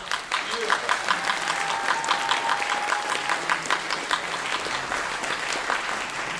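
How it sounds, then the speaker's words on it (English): Concert audience applauding after a student band and orchestra performance, a steady dense wash of clapping that fills the hall, with some talk and a brief whistle-like tone mixed in. "give another big round of applause"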